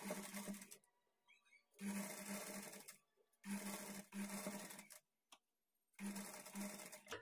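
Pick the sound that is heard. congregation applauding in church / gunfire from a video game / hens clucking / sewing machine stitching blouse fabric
sewing machine stitching blouse fabric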